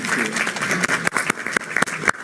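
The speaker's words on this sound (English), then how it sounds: "Can I just have a round of applause for a fantastic panel" An audience claps after a panel discussion, with irregular close hand claps rising out of a crowd murmur for a couple of seconds.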